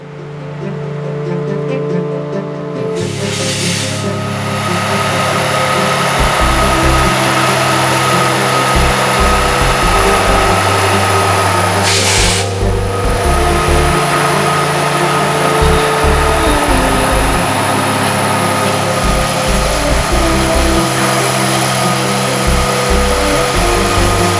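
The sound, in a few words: loaded BNSF coal train passing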